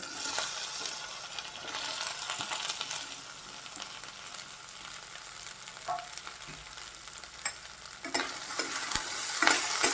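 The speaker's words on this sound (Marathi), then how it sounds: "मध्यम गॅसवरती भेंडी आपण परतून घेऊया" Okra stir-fries in oil with cumin and crushed chilli over a medium flame, a constant sizzle broken by spatula scrapes and clicks against the pan, close up.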